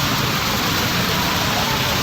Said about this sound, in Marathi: फुल पाऊस